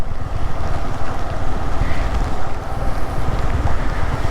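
Baba Falls, a waterfall near Belagavi, gives a loud, steady roar of crashing water that fills the whole clip, with gusts of wind buffeting the microphone and no voices.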